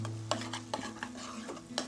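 A spoon stirs tomato thokku with chili powder in a pan, giving a few soft scraping strokes over a faint sizzle, close and quiet, with a low steady hum underneath.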